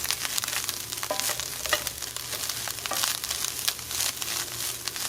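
Vegan pozole ingredients fry in a pot while being stirred, giving a steady close sizzle with rustling, scraping stir strokes on top.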